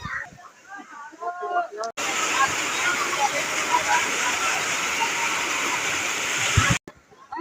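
The Jatashankar waterfall roars in a loud, steady rush of falling water heard up close, with people speaking briefly before and after.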